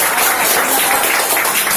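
An audience breaks into dense, continuous applause, many hands clapping together at steady volume for a brief moment.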